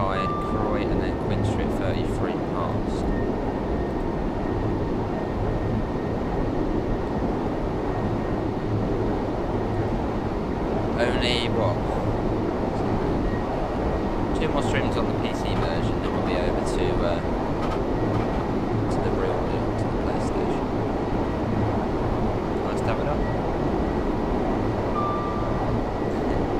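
Steady rumble of an electric passenger train running between Edinburgh and Glasgow in the railway simulator Train Sim World 3, a continuous rolling drone with a faint hum and occasional brief high clanks over the whole stretch.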